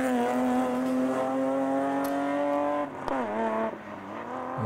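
A BMW E30 race car climbs a hill course, its engine wailing as it accelerates through the gears, a clear shift dip midway, heard from moderately near and fading slightly.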